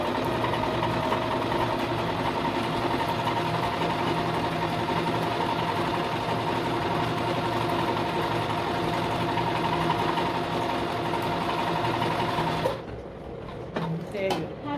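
A Singer 1507 sewing machine stitches in a steady, fast, close mechanical whir for about twelve seconds, then stops abruptly, leaving a few light clicks.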